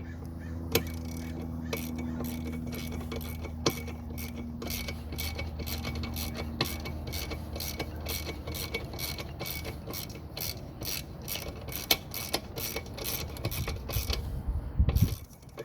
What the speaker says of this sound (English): So we're gonna use a 13 millimeters socket and to drive that bolt.